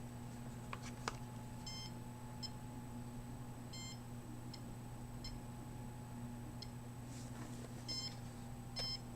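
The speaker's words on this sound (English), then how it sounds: "So the more sensitive of the two detectors picks up the tracking." Electronic signal detector giving short, repeated beeps at irregular intervals over a steady indoor electrical hum; no talking.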